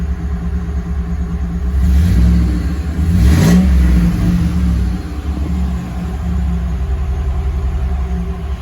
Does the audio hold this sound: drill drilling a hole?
no